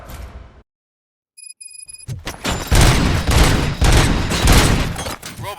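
Gunfire in the video game RoboCop: Rogue City, a brief silence and electronic beeps giving way to a loud, rapid burst of repeated shots and impacts, close and sustained.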